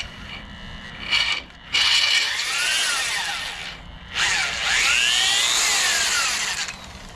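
A drill bores a hole with a 15/32 inch bit in two loud, close bursts, each a grinding whine that bends in pitch as the bit cuts, separated by a short pause.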